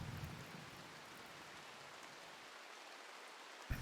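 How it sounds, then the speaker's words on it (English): Rain falls steadily in the colony-sim game Rimworld, a soft continuous hiss that thins slightly toward the end, capped by a brief louder patter. "with the coming of some rain, the fire is going to be put out"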